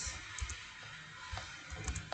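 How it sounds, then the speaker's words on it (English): Typing on a computer keyboard for a school practical lesson: scattered, soft key clicks in short uneven bursts, close but quiet, with no talking over them. "like this I continue my typing."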